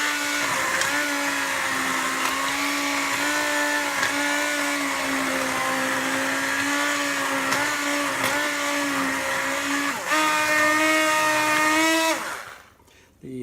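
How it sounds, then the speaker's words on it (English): An electric whisk beats a sauce to remove lumps, a loud, close, steady motor whine with slight pitch wobbles that runs continuously, then cuts out abruptly near the end. "a good way to avoid lumps is to use an electric whisk"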